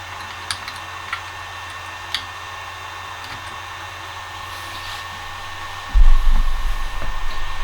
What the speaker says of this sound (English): It is primarily this fan that's built in to the Delta power supply.